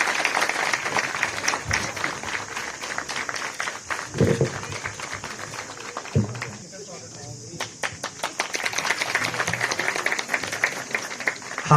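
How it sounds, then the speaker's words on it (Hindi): An audience at a village panchayat inauguration of development works applauds in a steady, sustained burst of clapping with a few louder thumps, briefly dipping before rising again. "तालियां निरंतर बजती रहनी चाहिए।"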